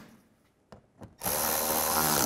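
Cordless power tool tightening the headlight bolts on a 2003–2010 BMW X3: a few faint clicks and taps, then a loud, steady, high-pitched motor whir up close.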